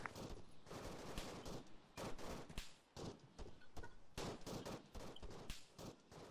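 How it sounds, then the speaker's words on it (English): Rapid volleys of gunfire from the ARMA 3 military shooter game, set in Takistan, crackle continuously with dense overlapping shots and machine-gun bursts, loud and unbroken with no talk. "Right, I had gunfire there."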